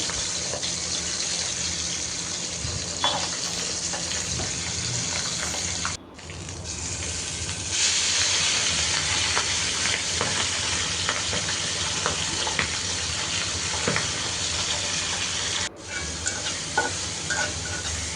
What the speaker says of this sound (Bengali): এরপরে মাছটা আমি মশলা মাখিয়ে রেখে এখন ভেজে নিচ্ছি